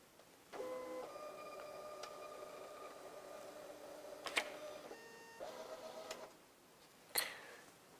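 A printer prints a voting machine card, starting with a whirring feed and steady mechanical hum with ticking pulses, pausing briefly, resuming, and ending with a sharp click, faint and close.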